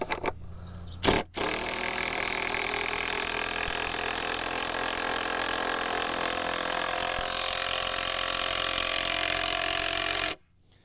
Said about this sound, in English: that will kind of pull the wood back towards it as you're screwing it in